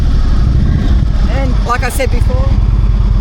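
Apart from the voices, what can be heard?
motorcycle engine starting and revving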